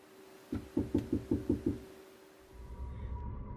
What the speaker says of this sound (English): one of them got out of the car and came up and started knocking on my driver's side window